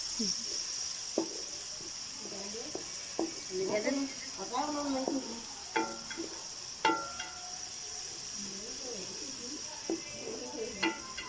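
Garlic paste fries with onions in a pan, a faint steady sizzle with soft crackles, while someone talks over it for much of the time.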